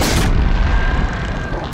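One loud, booming explosion in Horizon Zero Dawn hits at once and rumbles on with a dense low roar for well over a second.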